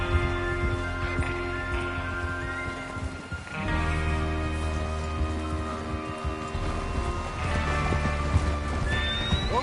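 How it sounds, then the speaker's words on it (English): Horses whinny and gallop in Red Dead Redemption 2, with rhythmic clip-clopping hooves throughout, layered neighs and snorts, and a game soundtrack underneath. "Get your horses ready."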